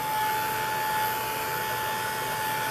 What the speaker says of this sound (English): let me just try to heat dry this